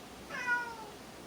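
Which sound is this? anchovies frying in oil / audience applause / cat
cat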